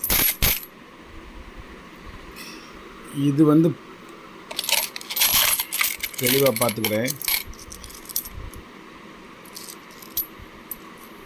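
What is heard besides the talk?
Indian five rupee coins being dropped and handled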